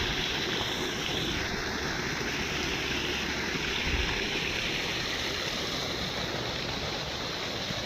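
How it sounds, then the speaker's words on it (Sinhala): Water pours steadily into a dug pit outdoors, a continuous broadband rushing and splashing that stays loud and even throughout with no voices. "ඒ වලේ දැන් වතුර එනවා."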